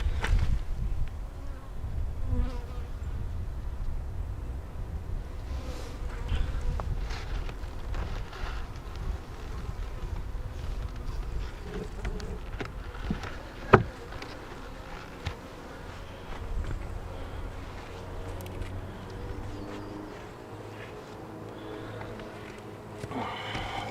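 Honey bees buzz steadily around a backyard hive, a soft continuous drone with individual insects passing near the microphone and a few faint knocks, quiet throughout.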